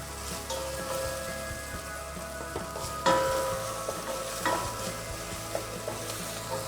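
Onions sauté with salt in a pan, giving a soft continuous sizzle with sharp clinks and scrapes of a utensil stirring against the metal, and no voices.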